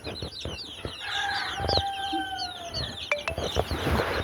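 Country chickens cluck and chatter nearby, with occasional sharper calls over a busy farmyard background.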